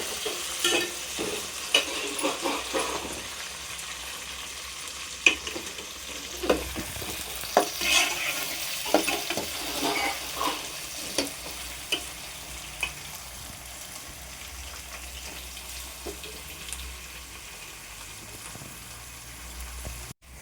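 Chopped tomato and onion fry together in a pan under a soft continuous sizzle, punctuated by repeated scraping stirs at an irregular rhythm that fade toward the end, with no speech.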